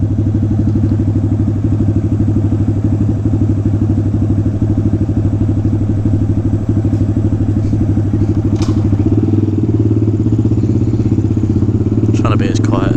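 A Honda Grom motorcycle idles loudly and steadily, its exhaust end can giving off a constant low, rattling throb, even with the baffle fitted, that continues without a break.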